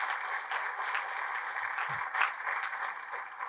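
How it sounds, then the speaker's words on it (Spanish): A congregation at a Catholic preaching service breaks into strong sustained applause, a dense, even wash of many hands clapping at steady volume throughout, with no speech over it. "Fuertes aplausos al Rey de Reyes y Señor de Señores,"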